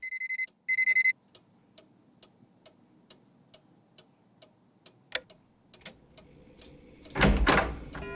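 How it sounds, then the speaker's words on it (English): An alarm clock in the video game Nancy Drew: The Curse of Blackmoor Manor rings in two short electronic bursts, then gives way to steady quiet ticking and a loud rushing swell near the end. "let's set an alarm for 12 a.m."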